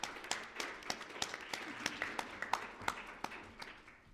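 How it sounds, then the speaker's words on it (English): Sparse, faint clapping from a small audience for three speakers at an online video strategy talk, with distinct individual claps in a steady pattern and no talk over it. "giving our round of applause to all three of our speakers"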